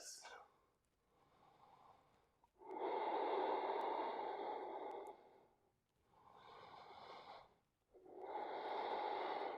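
Slow, audible yoga breaths, three long loud airy exhalations through the nose with quieter inhales between, close and steady in rhythm, alone without talk.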